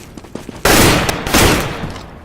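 Gunfire in the Planetside 2 video game erupts as a sudden, loud volley of overlapping shots after a faint opening. The dense barrage holds up briefly before fading.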